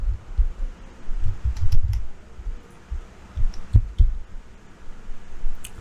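Computer keyboard typing, soft scattered clicks and taps in short irregular bursts, close by with no talking.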